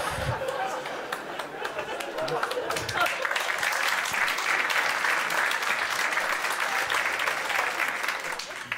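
A live comedy show audience breaks into sustained applause mixed with chatter and some laughter, a loud, dense crowd clapping that swells after a few seconds and holds steady.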